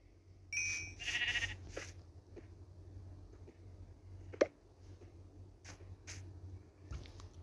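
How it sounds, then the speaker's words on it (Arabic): Sheep in the Minecraft video game bleat in a few short, wavering calls, fairly close and clear over a quiet low hum, with scattered small clicks and game sounds between them. "خروف أسود"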